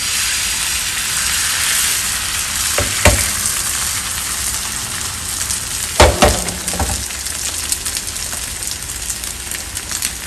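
An egg sizzles loudly as it is swirled around a hot oiled pan while neer dosa is being made; a continuous close crackling hiss runs throughout, with a few sharp scraping or clinking hits and no talking.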